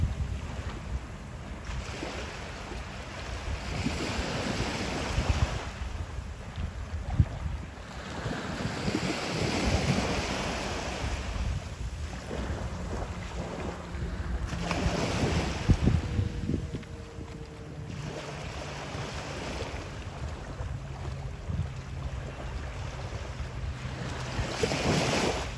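Ocean surf washes steadily onto a Florida beach at low tide in winter, with waves rolling in and breaking in slow repeating swells, constant wind rumble across the microphone, and no voices.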